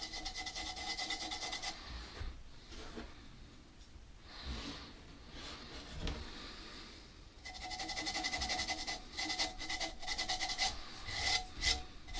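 Scraper drawn across the outside of a turned oak bowl, giving close, rasping strokes in two long bursts with a quieter patch between, no voice.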